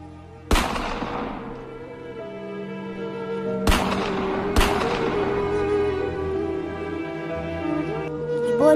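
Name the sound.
gunfire in a cartoon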